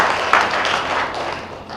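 An audience at a stakeholder investment forum in Kitui claps for development partners, a short burst of dense hand-clapping fading slightly over under two seconds.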